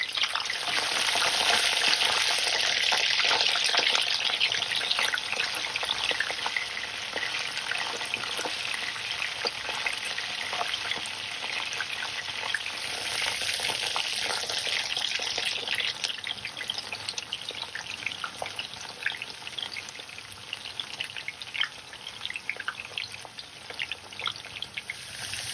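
Chicken pieces for Kung Pao chicken fry hard in a hot pan, a loud, dense, continuous sizzle with crackling spits throughout, heard up close with no talking.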